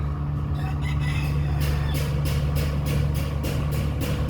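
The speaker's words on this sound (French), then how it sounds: "Le réveil ici c'est le coq." A rooster crows at a rural spot, heard as a repeated broken cackling call against a steady low engine-like hum, moderately loud with no one talking.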